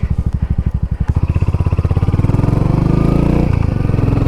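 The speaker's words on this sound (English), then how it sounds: "I love the sound of this Coffman's. It sounds excellent on this bike" A Royal Enfield Hunter 350 motorcycle with a Cofman's exhaust, loud and close, its single-cylinder thump pulsing evenly before the engine revs up into a deep, throaty, steady drone.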